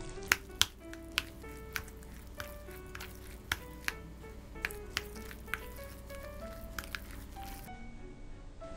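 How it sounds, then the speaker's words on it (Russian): Cottage cheese mass with raisins and melted butter being mixed in a bowl: quiet squishy stirring with a steady run of sharp clicks as the utensil taps the bowl, close and without talk. "И хорошо все перемешиваем."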